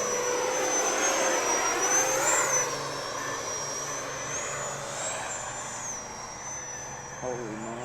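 An FMS Rafale canard-delta EDF RC jet flying under power, its steady high-pitched ducted-fan whine rising and falling as it passes, loud at first then easing off, with people talking over it.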